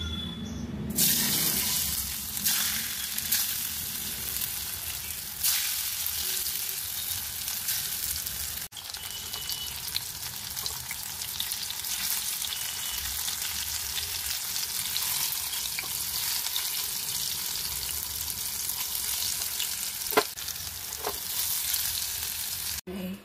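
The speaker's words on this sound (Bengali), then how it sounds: "তো চলো এগুলোকে একটা একটা করে ভেজে নিই" Pieces of banana flower dhoka fry in hot oil, giving a steady bubbling sizzle that runs throughout with scattered clicks and small knocks from handling, fairly close and without speech.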